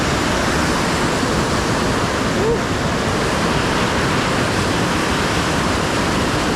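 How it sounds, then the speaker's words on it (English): Steady broadband rushing of a river flowing below a forest trail on a New Zealand hike, a continuous loud wash of water with no break. "There's a river down there"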